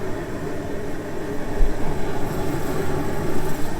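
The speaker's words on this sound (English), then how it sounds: "It's a bit noisy with the heater going." A heater running in a garage gives off a continuous rumbling, whooshing drone, steady and fairly loud throughout with no voices.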